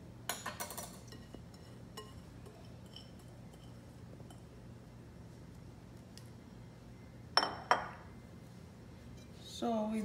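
Ceramic or glass bowls clink and knock in a home kitchen while egg salad is being made, with a few short clinks at the start, two sharp knocks later and more rattling near the end, set against a faint steady hum.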